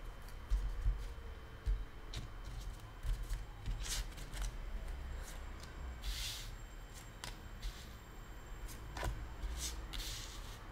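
Tarot cards are shuffled by hand in a steady, close papery riffle that continues throughout, with soft slaps and ticks of the cards over a low background rumble and no voices.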